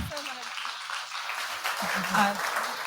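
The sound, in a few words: applause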